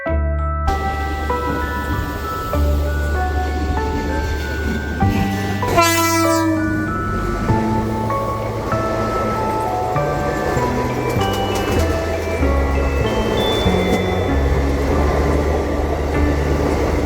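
Puri-Tirupati Express passenger train running, a steady loud rumble of wheels and carriage with tonal drones throughout and a brief sweeping horn-like tone in the middle, no talking.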